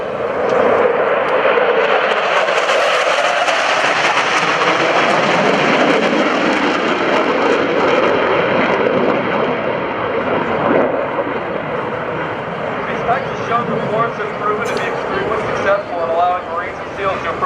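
A naval jet makes a low-altitude, high-speed show-of-force pass at an airshow at NAS Oceana, its loud roar swelling and then fading away, while an announcer talks over it.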